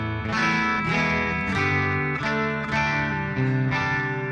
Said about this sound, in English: So really digging this amp sim.